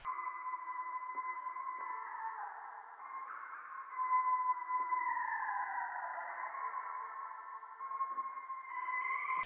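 A sustained synth-like tonal sample with a washy reverb tail, its pitch slowly bending and swelling up and down, with soft low pulses underneath.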